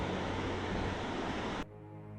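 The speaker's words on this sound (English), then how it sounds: "the crashing water ahead provided a reminder that there are some waterfalls to see" Crashing water of a waterfall ahead on a trail at Silver Falls State Park, Oregon: a steady broad rush heard alone that cuts off abruptly near the end.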